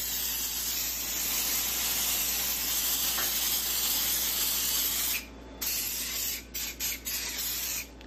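Silicone spray hisses steadily from an aerosol can, soaking paper and glue until wet, one long continuous burst that breaks into a few short sprays near the end, close and alone with no talk.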